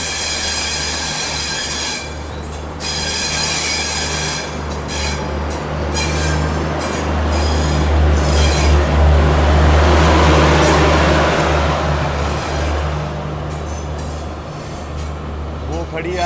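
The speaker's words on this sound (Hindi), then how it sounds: "नई दिल्ली से चलकर दरभंगा को जाने वाली बिहार संपर्क क्रांति।" The Bihar Sampark Kranti passenger train, bound for Darbhanga, sits in New Delhi station. A loud, continuous rail rumble carries sustained wheel squeal that swells midway, and a voice talks over the top.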